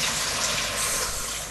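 Warm water poured over the back of a dark crumble mould, a steady close wash of running liquid lasting the whole moment with no talk.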